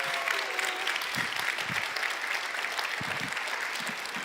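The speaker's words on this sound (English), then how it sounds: "Let's give Emma a big round of applause." A crowd at a tacos and trivia fundraiser claps steadily in sustained applause, a dense even patter of many hands from a moderate distance.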